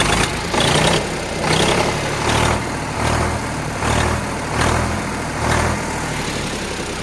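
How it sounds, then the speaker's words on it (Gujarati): A tractor's diesel engine idles steadily just after starting, its low, heavy throb pulsing in a regular rhythm of about one beat per second, close and fairly loud with no talking. "તમે જોઈ શકો છો એન્જિન સ્ટાર્ટ કરી દીધું છે આપણે."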